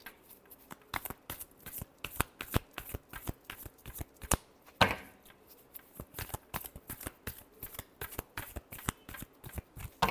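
Playing cards are shuffled over and over in quick, crisp riffling bursts, close and fairly quiet, keeping an irregular rhythm from start to finish.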